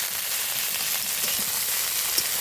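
Red amaranth greens stir-fried in a pan, a continuous soft sizzle and hiss of frying with faint stirring scrapes, close by and without talk.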